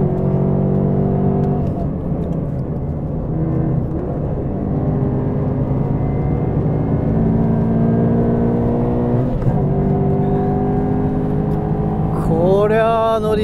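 A car fitted with TRD aftermarket parts drives steadily, its engine hum and road whir continuous and close, rising into a brief rev near the end, with people talking over it.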